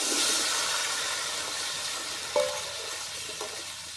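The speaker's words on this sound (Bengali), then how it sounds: "তেলের মধ্যে দিয়ে দেবো পেঁপে আর আলু একসঙ্গে" Pieces of raw papaya and potato hit hot oil in a village-style kitchen, giving a loud hissing sizzle that gradually settles, with a couple of sharp utensil clinks near the end.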